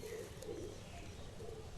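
A pigeon coos close by in soft, low repeated phrases over a hissy background, with no talking.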